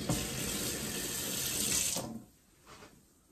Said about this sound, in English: Put some water into the sink, put the plug in, and just filled them